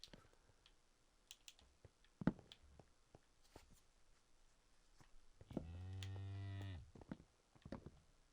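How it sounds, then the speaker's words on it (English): Cow moo from the video game Minecraft, one drawn-out, strongly pitched low call lasting about a second, set against quiet keyboard typing and faint game sounds. "Was that a cow? I love that cow sound."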